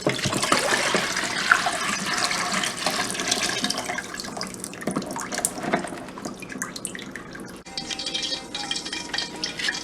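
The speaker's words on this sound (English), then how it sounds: "And then we're gonna drain this out." Water drained off during preparation of Guyanese-style hassar fish curry, a continuous splashing pour with dripping, close and fairly steady.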